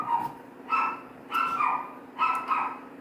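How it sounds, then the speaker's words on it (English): Several dogs bark in the next room, repeated yapping barks in uneven bursts of two or three, moderately loud and slightly muffled, with no one talking. "Sorry about the dogs in the background."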